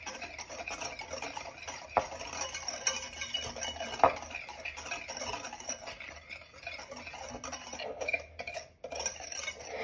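Sugar being stirred into lemon poppy-seed cake batter in a bowl, a steady scraping and clinking of utensil against the bowl with a couple of sharper knocks, close and moderately loud, no talking.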